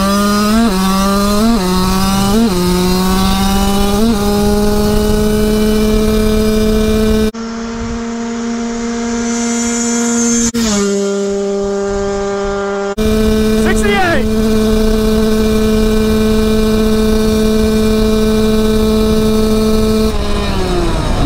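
A stock Honda CR125 two-stroke motorcycle screams at full throttle, loud and close, with its pitch climbing and dropping sharply at each power shift through the gears, plus a brief muffled stretch in the middle.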